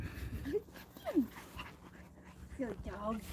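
Close dog panting with soft whimpers and short yips, breathy and uneven, over faint background noise at a dog park.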